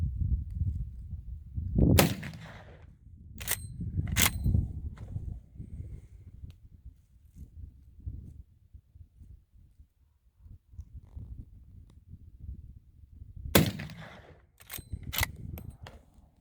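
Two groups of sharp, loud rifle shots from a Winchester 1886 short rifle in 45-70, fired at a 75-yard target outdoors, each crack followed by a brief echo, with quiet gaps between.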